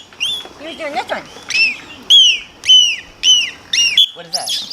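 A trained dolphin gives its seagull-sound behavior: a run of loud, close, rising-and-falling whistled squeals, five or six in quick succession, with softer chirps at the start and a brief scratchy squeak at the end.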